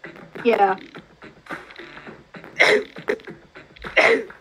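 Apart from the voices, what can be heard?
sneeze from hay fever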